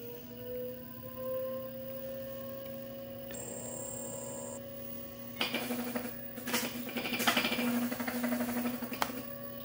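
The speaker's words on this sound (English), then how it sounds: "See if I can make the hub motor kick off." A GoTrax G2 electric scooter hub motor spins up, a steady electric whine and hum that rises partway through into a louder, rougher mechanical whir, close and without speech.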